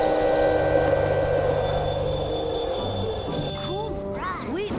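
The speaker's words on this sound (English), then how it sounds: "It's fun to ride the train, isn't it?" A train rolling along its tracks, a steady low rumble with faint squeals that swell near the end, heard up close and loud throughout with some voices in the background.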